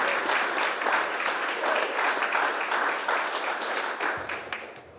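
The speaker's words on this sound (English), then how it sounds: "Let's give Caleb a round of applause." Applause from a pitch night audience in Green Bay for a presenter named Caleb, a dense wash of clapping that holds steady and tapers off toward the end.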